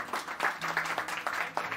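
Restaurant guests applaud chef Kevin with a steady round of close clapping that lasts the whole moment, with no voices over it.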